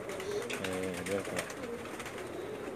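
A pet pigeon coos softly, a few low, throaty warbling calls close by, with people talking quietly in the background.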